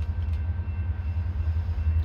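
A northbound CSX mixed manifest freight train passing on track two: a loud, steady low rumble of rolling wagons, close by and continuous throughout, with a faint high tonal whine above the roar.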